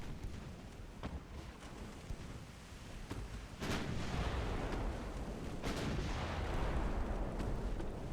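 Naval guns firing in the video game Ultimate Admiral Dreadnoughts: sharp distant reports at irregular intervals over a rumbling background, with heavier booming salvos building in the second half.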